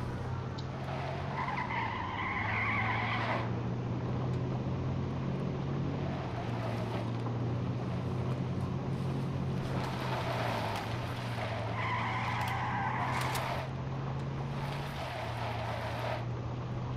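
A car in the H1Z1 King Of The Kill video game drives at speed with a steady engine drone. Its tires skid and squeal in two long bursts, close and loud, with no talking.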